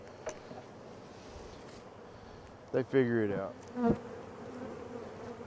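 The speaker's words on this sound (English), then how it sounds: "It's lots of bees, guys," Many honey bees fly around a bee yard during the fall honey flow, a steady insect drone running under a brief stretch of talk.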